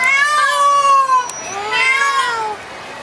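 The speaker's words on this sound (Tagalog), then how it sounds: "Parang pusa naglalampong lang ano." Cat-like yowling at a zoo, like cats in heat: two long, wavering, drawn-out cries, fairly loud and close, with no talk over them.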